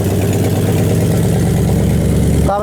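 A 1978 Chevy truck engine, once seized and rescued from a junkyard, idles steadily with a low, even rumble close by, ending with a brief higher mechanical sweep.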